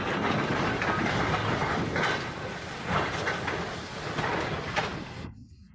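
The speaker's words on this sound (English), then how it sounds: "matches the grandeur of a classic steam train, setting off on its journey" Classic steam train setting off, a steady loud rumble of rolling rail cars with rhythmic clickety-clack and mechanical clanks, continuing evenly before cutting off abruptly.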